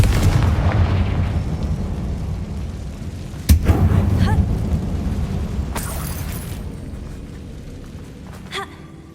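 A Confringo blasting spell detonates in a closed mine that resembles a tomb in Hogwarts Legacy. It is a sharp, loud blast over a steady low rumble, and the roar lingers and fades over several seconds, with a faint crack near the end.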